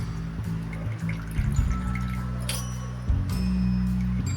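Whey dripping and trickling from a cloth bundle of freshly curdled chhena being drained for homemade rasgulla, a steady watery patter close by with faint kitchen background and no talk.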